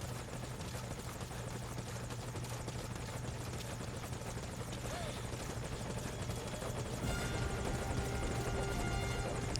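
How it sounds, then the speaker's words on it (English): Helicopter in the video game Metal Gear Solid V: Ground Zeroes, a steady rotor thrum with a low drone holding throughout, growing slightly louder toward the end. "we'll hop on the chopper with Morpho"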